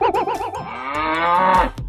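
A cow moos loudly and close by at a cattle and goat market, a long wavering low call lasting nearly two seconds, with no one speaking over it.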